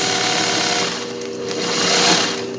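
A sewing machine embroiders with a double needle in a loud, continuous, even mechanical whir, close up and with no voices.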